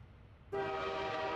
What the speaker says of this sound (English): There's the train horn.